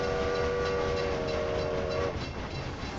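Trains in the video game Railway Empire 2 roll in along the Danube, a continuous loud rumble of rail noise with a sustained horn tone that cuts off partway through.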